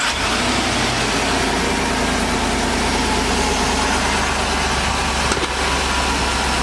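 A four-wheel-drive vehicle's engine idles with a loud, steady, even drone close by. No one speaks.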